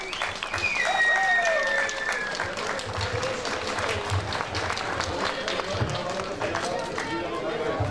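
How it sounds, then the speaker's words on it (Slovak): Loud, steady applause from a crowd for the competing teams at an outdoor kettle-cooking contest, sustained clapping throughout, with voices and a brief whistle-like tone mixed in. "Ja vás poprosím ešte o jeden veľký potlesk pre všetky naše súťažné družstvá."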